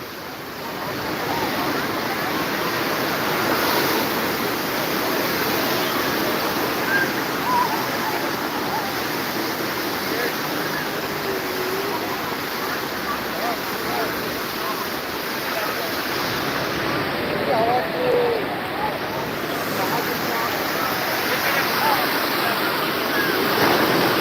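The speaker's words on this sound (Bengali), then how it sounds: "দীঘার দীঘার সমুদ্রে ঢেউ ব্যাপক" Sea waves on Digha beach on a foggy winter morning make a continuous loud, broad roar of surf, steady throughout with no distinct breaks.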